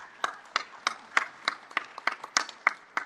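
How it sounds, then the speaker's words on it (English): Applause at a renewable energy conference plenary session comes as evenly spaced, distinct claps in a slow, steady rhythm of about ten beats, fairly close and with no talking over them. "A nice round of applause to the program director."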